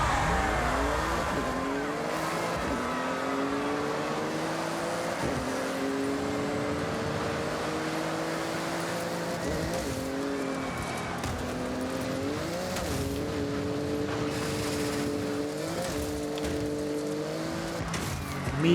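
A Porsche race car engine in Forza Horizon revs and climbs through the gears, its pitch rising then dropping at each shift, with tire squeal, loud and close throughout.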